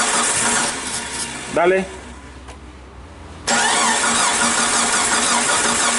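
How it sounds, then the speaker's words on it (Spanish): A 1998–2001 Jeep Cherokee XJ with a failing fuel pump cranks in a short, rapid burst and then runs roughly, loud and close, while someone speaks briefly over it. "Dale arranque otra vez"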